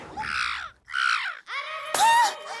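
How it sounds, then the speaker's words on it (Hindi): A crow perched on a house roof caws four times in quick succession, harsh, close and loud, with the final call the strongest. "टोडले पे बैठ के वो कौवा कां कर रहा है"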